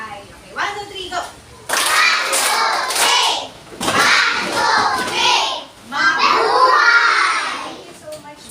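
A classroom of children clapping together and shouting in unison during a teaching demonstration, loud bursts of group voices and claps in several waves with brief pauses between.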